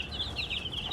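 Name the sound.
young chickens clucking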